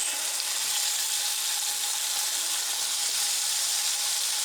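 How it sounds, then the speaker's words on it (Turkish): Meat skewers frying in olive oil in a pan over high heat, giving a loud, steady, bright sizzle that holds evenly throughout with no talk. "Şişlerimizi şu şekilde. Tavamıza atıyoruz."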